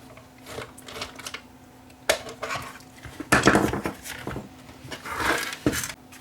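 Screws are taken out to disassemble an Audew portable tire inflator, giving close, intermittent clicks, taps and small rattling handling sounds in irregular bursts, with no talk.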